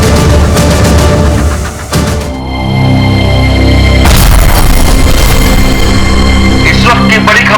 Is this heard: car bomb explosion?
yes